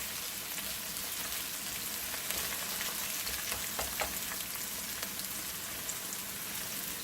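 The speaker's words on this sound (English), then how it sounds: "So you just fry up the onion until it gets a little brown." Onion frying in a pan for Guyanese-style cook-up rice, a steady close sizzle and crackle with scattered sharper pops, no voices.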